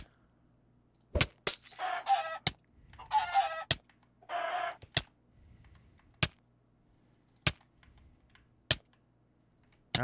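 A Minecraft chicken in the All The Mods 7 modpack clucks in three short bursts, mixed among sharp, evenly spaced clicking hits, fairly loud against a quiet background.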